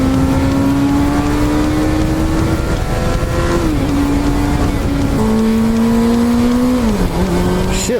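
A motorcycle engine revs steadily and loud, its pitch climbing and then stepping down through several smooth gear shifts, with continuous engine drone throughout and no talk.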